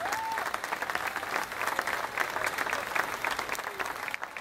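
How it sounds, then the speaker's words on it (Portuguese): Clapping from the crowd at a musician's 40-years-of-music concert swells in a dense, uneven patter, with brief whoops and a stray voice rising over the applause. "uma grande salva de palmas para ele"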